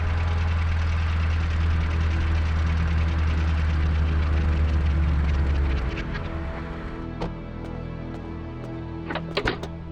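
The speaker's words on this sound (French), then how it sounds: "Écoutez, voilà une voiture." A cartoon car engine rumbles loudly at a low, steady idle for about six seconds, then cuts off, followed by a few sharp clicks and knocks like a door in the quieter stretch.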